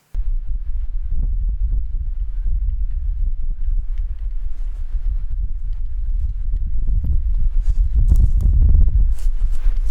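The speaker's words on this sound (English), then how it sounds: "And that was bipedal footsteps." Bipedal footsteps at night in the woods, a run of dull, irregular low thuds over a rumbling background that grows louder and heavier toward the end.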